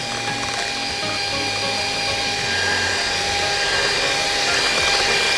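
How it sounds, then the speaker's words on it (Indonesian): Electric hand mixer whirring steadily through red velvet roll cake batter, a continuous loud motor hum with a whining tone that holds throughout, close by and without talk. "Terus kita mixer sampai dia kental berjejak."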